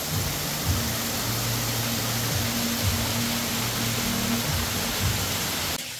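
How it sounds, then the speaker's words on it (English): A huge waterfall at Jungle Park in Tenerife gives off a loud, constant roar of falling water. The broad rushing hiss is close and steady, with a low rumble underneath. "you've got this huge waterfall here"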